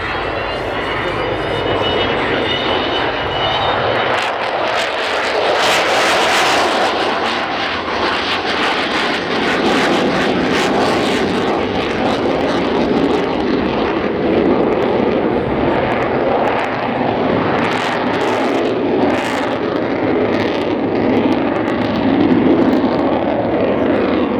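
The four jet engines of an Avro Vulcan bomber roar steadily as it passes at the Cosford Air Show, loud and rumbling throughout, with a voice audible in the mix.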